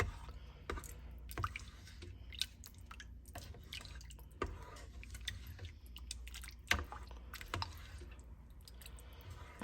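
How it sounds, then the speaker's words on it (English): Food and seasonings are stirred in a crock pot, giving soft, wet squishing and scraping with irregular clicks of the utensil against the pot, close and quiet with no talk. "now I'm just gonna give everything a really good stir"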